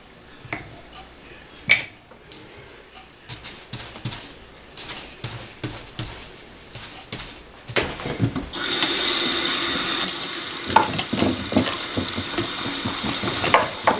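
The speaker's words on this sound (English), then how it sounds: "I'm using warm soapy water to try to get most of the paint off of the brush and the roller." Taps and clatters from a paint brush and roller being handled at a sink lead into a tap gushing warm soapy water with Dawn dish soap, a steady close splashing rush over the last half.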